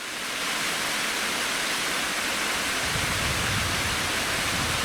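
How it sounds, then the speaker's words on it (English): A steady, loud rush of falling water from a waterfall on Seneca Creek, broad and unbroken, close by with no voices. "And we've got this beautiful waterfall right here."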